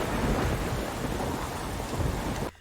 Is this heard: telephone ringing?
no